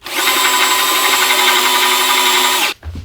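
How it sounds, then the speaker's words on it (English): A power drill bores out a hole in a wooden guitar body, a loud steady whine running continuously for nearly three seconds before cutting off abruptly. "So let's just drill this out really quick now."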